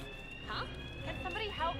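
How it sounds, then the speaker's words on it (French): A steady high electronic alarm tone sounds in Hitman 3 on the Dubai level. It is faint and continuous under lively talking. "il y a une alarme"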